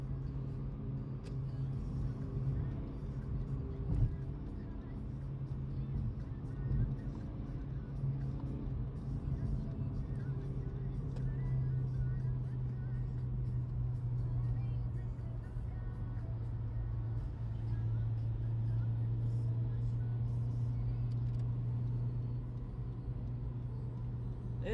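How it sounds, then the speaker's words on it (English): A 2017 Honda Civic Type R turbo engine under acceleration, heard from inside the car as a steady low drone and rumble that rises in pitch partway through, continuous for the whole stretch. "You can hear the turbo when it kicks in."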